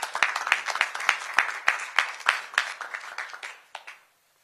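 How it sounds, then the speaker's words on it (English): An audience at a news conference on a hazing scandal applauds, a run of brisk claps that thins out and fades to silence just before the end. "a round of applause"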